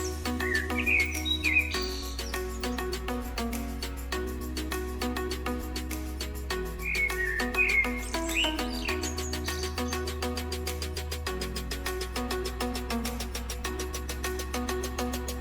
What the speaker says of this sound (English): Say hello to the African Grey Parrot, the world's greatest talking bird and the genius of the skies.